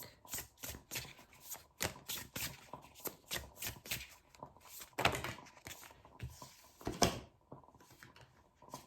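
A deck of reading cards is shuffled over and over near the mic, with quick riffling bursts in a steady rhythm and a couple of louder flicks and thumps.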